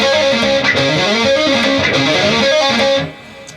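A distorted electric guitar plays a quick, flowing pentatonic riff of picked notes with hammer-ons, pull-offs and slides, loud and alone, ending abruptly.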